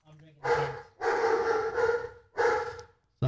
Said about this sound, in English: Simon is barking at somebody at the door